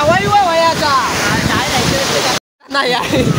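Heavy water tumbling down a stepped waterfall gives a loud steady roar beneath close talking, cut off by a brief dropout before the rush returns.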